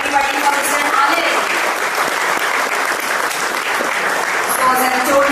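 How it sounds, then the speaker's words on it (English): A large audience at a live AI hackathon event claps loudly and cheers as a guest is welcomed onto the dais, a dense, continuous roar of hands and voices throughout. "Make some noise, clap harder, everybody for Mr. Anil."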